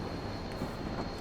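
A Metra SD70MACH diesel locomotive in Train Simulator 2019 throttles up, producing a steady low engine rumble with a faint tonal whine, continuous and moderately quiet.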